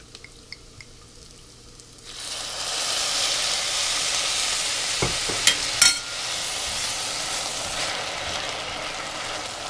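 Quarter cup of wine poured into a pan of toasted rice for baked risotto, bursting into a loud steady sizzle after a quiet start, with a few clinks of a utensil partway through.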